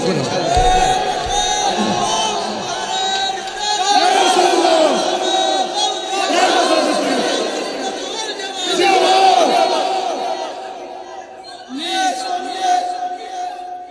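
A large crowd at a religious gathering chants a slogan in loud, rhythmic group call-and-response, with several surging waves of massed voices sustained through the whole stretch.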